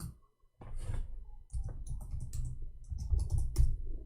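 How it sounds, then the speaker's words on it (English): Typing on a computer keyboard, a quick run of faint, close key clicks in uneven bursts with short pauses, no voices. "Oh, I'm typing in Arabic."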